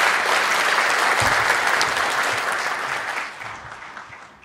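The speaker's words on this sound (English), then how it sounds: "Let's give them a round of applause for putting this together." A conference audience applauds the staff with loud, dense clapping from a large crowd that holds steady, then thins and fades out toward the end.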